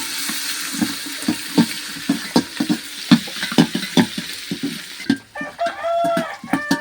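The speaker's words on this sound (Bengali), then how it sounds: "গোটা পাঁচফোড়ন গোটা জিরে এগুলো আমি ভালো করে এরপর নাড়িয়ে নেব" Whole panch phoron and cumin seeds fry in hot oil while being stirred, a steady sizzle punctuated by rhythmic scraping strokes, with a rooster crowing nearby toward the end.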